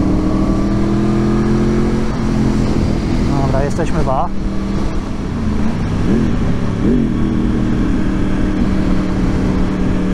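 A loud Yamaha R1 RN22 sport motorcycle engine drones steadily throughout, with a brief rising rev in the middle, while a person talks over it up close.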